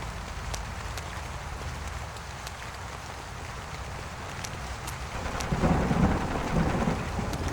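Heavy rain pours steadily over rumbling thunder in the video game Portrait of a Torn, with scattered sharp drips and a louder surge of storm noise near the end.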